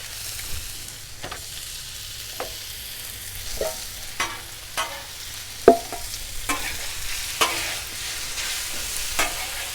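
Chicken pieces with butter sizzle on a Blackstone griddle as hibachi cooks, with a steady frying hiss and scattered scraping taps from a spatula, and no talk over it.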